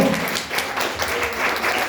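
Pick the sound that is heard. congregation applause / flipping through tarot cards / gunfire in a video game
congregation applause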